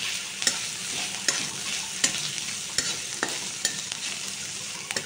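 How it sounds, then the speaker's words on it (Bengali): Chopped onion, garlic, ginger and green chilli fry in oil, giving a steady hissing sizzle up close, punctuated by regular sharp taps of a spatula stirring the pan about once a second. "এগুলো হালকা ভাজা ভাজা করে নিলাম"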